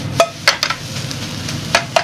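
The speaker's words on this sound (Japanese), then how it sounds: "フライパンにこうつけるような感じで混ぜながら炒めてあげると美味しいチャーハンに仕上がりますね。" Fried rice is stir-fried in a pan at a Chinese restaurant, with several sharp metallic scrapes and clacks of a ladle against the pan over a low, steady sizzle.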